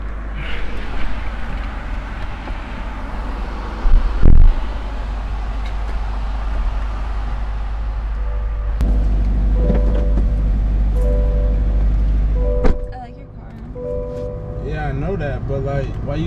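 Steady low rumble of a car driving, heard from inside the cabin, with a door thump partway through and people talking over the engine drone.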